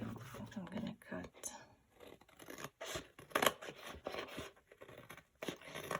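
Scissors cut through a fabric master board for a junk journal while the glue is still wet, giving soft, quiet snips and scrapes at irregular intervals under a low, murmuring voice.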